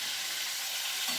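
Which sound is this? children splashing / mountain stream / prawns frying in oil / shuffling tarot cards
prawns frying in oil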